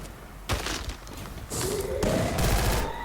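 Gunfire in the Free Fire battle royale mobile game, a few sharp, loud shots and bursts in quick succession over a constant game background drone, with a rising tone sweeping underneath toward the end.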